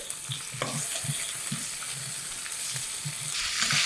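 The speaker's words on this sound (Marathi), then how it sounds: "शेवग्याची शेंग भोपळा टोमॅटो हेही तेलावर हलकंसं परतून घेऊयात एक मिनिटभर" Drumstick pods, pumpkin and tomato sautéing in oil for sambar, a continuous sizzle broken by repeated soft scraping and stirring knocks of a spoon in the pan, close and clear.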